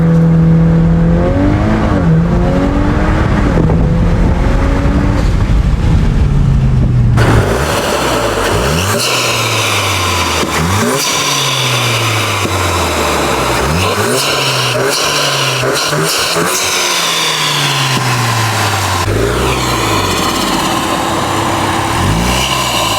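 A VW MK8 Golf R with an intake and stage 1 tune revs its turbo engine repeatedly, loud rising and falling sweeps close by, with a lighter whooshing stretch first, then a series of sharp accelerations.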